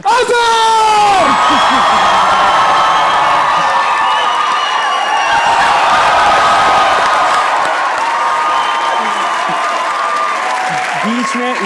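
Studio audience at a comedy show claps and cheers to welcome a singer, with loud whoops and yells over continuous, sustained applause that stays strong throughout and then eases slightly, while a host's voice rings out above the crowd.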